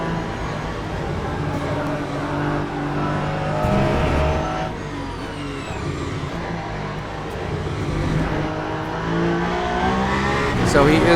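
GT3 race cars accelerating around Bahrain in the Le Mans Ultimate racing game during an 8-hour race: engines whine and rise in pitch as the cars pass, with brief tire squeal and a constant loud roar.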